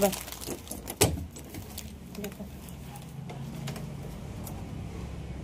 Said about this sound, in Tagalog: Kunin natin itong susi.